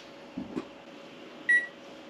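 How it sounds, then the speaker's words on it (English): A kitchen timer set for 20 minutes beside a pot of boiling water: a couple of soft button presses, then one short, clear electronic beep, close by. "So what we're going to do, then we'll set a timer"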